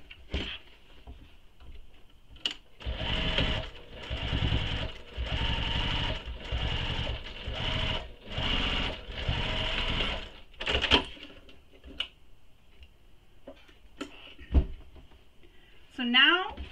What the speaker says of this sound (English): We're going to top stitch this all the way across.